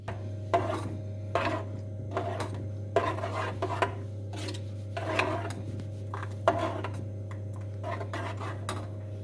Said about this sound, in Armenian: Լցնենք փոքր կաթսայի մեջ և դնենք գազօջախին։